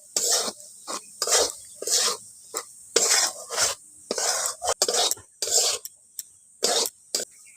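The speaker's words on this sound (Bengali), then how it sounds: "ডিমটা ওর সঙ্গে একটু নাড়াচাড়া করে ভেজে নিচ্ছি।" Egg is stir-fried with potato in a pan, with a series of close, rhythmic scraping and clattering strokes of a utensil against the pan separated by short pauses and no talking.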